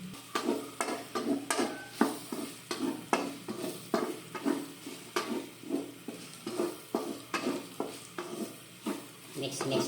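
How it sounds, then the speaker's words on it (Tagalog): Onion and garlic stirred and sautéed in a pan, a steady rhythm of spoon scrapes and clinks over a continuous close sizzle, repeating about once a second. "Mix lang hanggang sa kulay brown siya."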